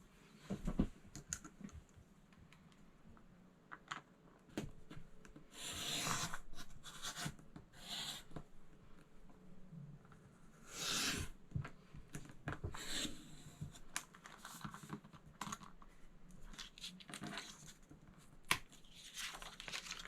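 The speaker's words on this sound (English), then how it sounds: "you're going to cut one circle along the outside track" A circle cutter fitted with a green blade slices a medium circle along the outer track of a sheet of red paper, giving close, scratchy bursts of cutting and paper rustle that come and go in uneven strokes, with no talk.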